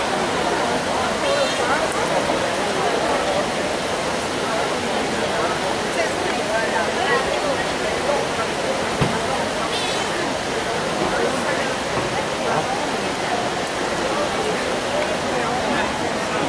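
Water splashes and rushes continuously from the Trevi Fountain in Rome, a dense outdoor roar mixed with the chatter of a surrounding crowd and occasional nearby voices.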